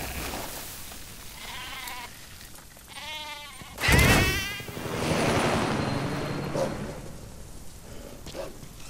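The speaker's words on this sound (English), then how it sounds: "it looks like we have a goat here that's been separated from its herd" A separated goat bleats with wavering, harmonic cries in Metal Gear Solid V: The Phantom Pain, several short calls among game ambience, then a loud burst and a sustained whooshing wash with faint calls continuing.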